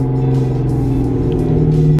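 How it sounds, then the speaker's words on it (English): Car exhaust rumbling steadily up close during a rev-matched downshift into first gear, a loud low drone with a tone that rises slightly toward the end. "y'all can hear the exhaust note 10 times easier on that one"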